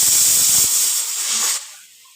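A pressure cooker cooking dal and vegetables lets off a loud, steady steam hiss that holds briefly, then drops away sharply at the end.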